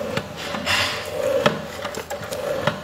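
Japanese TOHO electric hole-punching machine, a used 110 V motor-driven unit with a drill bit, boring through material with a steady scraping, rasping grind and a few sharper clicks throughout, close and fairly loud with no talking.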